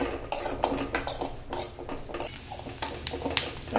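Coconut pieces being fried in ghee for pongal, with a spatula clinking and scraping against the pan in a steady, close run of metallic strokes and a faint background hiss, and no voices.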